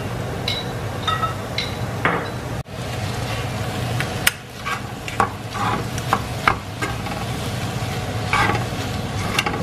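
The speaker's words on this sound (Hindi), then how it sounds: "तो अच्छी तरह मैं मसालों को मिक्स करूँगा।" Spices being stirred into minced meat keema on a hot tawa, a constant loud sizzle with repeated clanks and scrapes of a spatula against the iron griddle, no voices.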